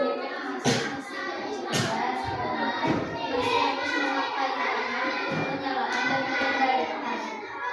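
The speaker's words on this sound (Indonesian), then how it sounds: "Tepuk tangan lagi." Children clap their hands in a classroom, scattered claps and thumps rising amid a busy hubbub of young voices chattering and playing nearby, the clapping uneven rather than in unison.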